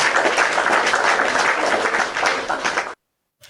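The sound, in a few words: person clapping hands for herself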